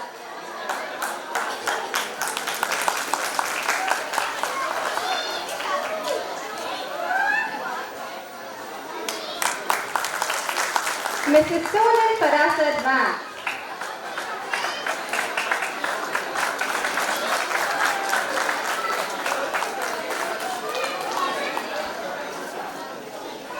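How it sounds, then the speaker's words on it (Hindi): Audience at a school annual function claps and applauds for the teachers in repeated bursts over crowd chatter, while a voice on a microphone announces names. "हमारे सभी गुरुजनों के लिए जोरदार तालियां बजती रहनी चाहिए"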